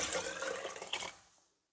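Water pours into a pot for seeraga samba mutton biryani, a steady close splashing gush that tapers off and stops near the end, with no talk.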